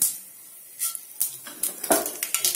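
Mustard seeds go into hot oil in a pan, giving a quiet base before sharp crackles and pops burst out in quick irregular clusters toward the end.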